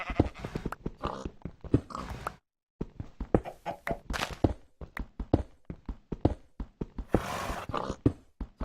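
Horse hooves clopping in a video game, a series of quick, uneven thuds and clacks with a brief gap of silence, moderately quiet and without voices.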